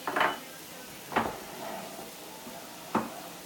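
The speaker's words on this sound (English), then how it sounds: "Kick them around a little bit. They're in the little greased pan." Onions being stirred in a small greased pan over high heat, with a few distinct utensil clanks against the pan at irregular intervals over a faint background hiss.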